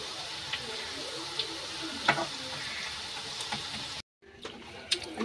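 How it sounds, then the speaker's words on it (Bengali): Vegetable pakoras fry in hot oil in a wok, giving a steady close sizzle with occasional clinks of a utensil turning them, and a brief gap near the end. "এইভাবে আমি সবগুলো ভেজে নেব।"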